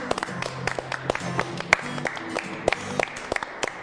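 Scattered clapping from a small group welcoming a guest, individual claps standing out unevenly rather than a dense roar, moderately close.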